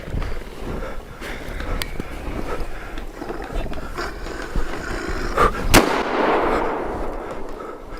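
Gunfire in the horror video game Evil Stalking: a few sharp shots over a dull rumbling ambience, ending in one louder, booming blast.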